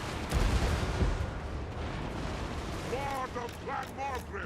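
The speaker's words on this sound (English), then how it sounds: "Cannons are doing well." Cannon and thunder fire from a Total War Warhammer 2 battle: a loud booming blast near the start, then continuous battle rumble with a voice talking over it toward the end.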